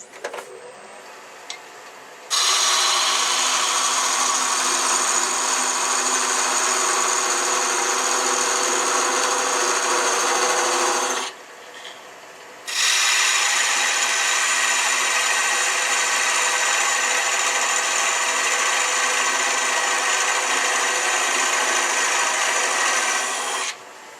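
A sharpened parting tool cuts into a spinning wooden egg blank on a lathe, a loud, steady rasping scrape in two long passes with a brief pause between them, close and without talk.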